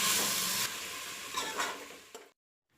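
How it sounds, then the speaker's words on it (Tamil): About 100 grams of chicken sautés in a pan for nombu kanji, giving a steady loud sizzle with stirring scrapes and bursts of hiss before it cuts off abruptly. "இது 100 கிராம் சிக்கன். இதை போட்டு நல்லா 1 நிமிஷத்துக்கு நல்லா வதக்கி விடலாம்."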